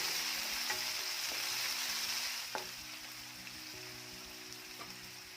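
Onion and finely chopped tomato fry in a pan while being browned to golden, giving a soft, even sizzle with a few sharp clicks of a spoon against the pan under faint background music.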